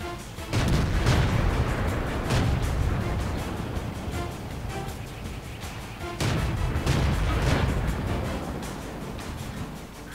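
Heavy tank cannon fire in World of Tanks, with loud booming blasts near 0.5 and 6 seconds, each followed by a rumbling decay over a steady battle din, plus a few lighter shots in between.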